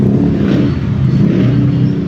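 A motorcycle engine revs steadily and loudly up close, a continuous throaty drone with no pauses, heard alone without talk.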